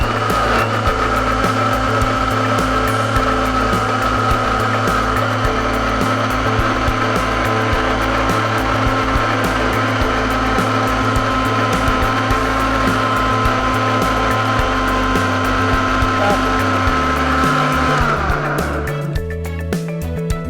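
A kitchen mixer grinder runs with its lid on while mixing vanilla dry fruit cake batter, giving a loud, steady whirring whine that holds for about eighteen seconds before cutting off.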